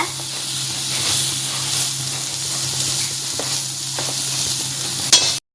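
Masala of onion and spices being stirred and sautéed in a pan while making dry prawn, a steady close sizzle with scraping stir strokes throughout and no talk.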